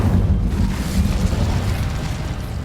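A fire spell cast in the Hogwarts Legacy video game, a deep rumbling whoosh of flame with a heavy low-end roar that stays loud and steady, fading slightly toward the end.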